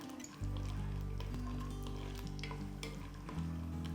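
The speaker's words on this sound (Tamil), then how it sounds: "ஸோ வேர்க்கடலை கொஞ்சம் வதங்கிடுச்சுங்க." Peanuts sautéing in a pan for a celery-leaf chutney give a loud, close, steady sizzle, with stirring scrapes throughout and no talking.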